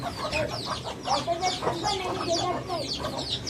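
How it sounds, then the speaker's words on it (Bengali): Several chickens cluck continuously as they eat at a farmyard feeding spot, with repeated short, overlapping calls at close range over a low background hum. "দেখেন আমাদের মুরগিগুলো খাবার খাচ্ছে"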